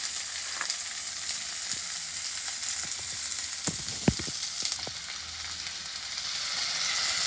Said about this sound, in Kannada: ವೆಜಿಟೇಬಲ್ಸ್ದು ಚೆನ್ನಾಗಿ ಫ್ರೈ ಆಗಬೇಕು ವೆಜಿಟೇಬಲ್ಸ್